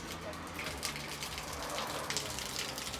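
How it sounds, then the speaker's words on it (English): Water pours from a drained tank pipe onto a concrete floor, making a faint, steady splashing patter like light rain that continues throughout, with a voice speaking over it. "in the background you can still hear that water running"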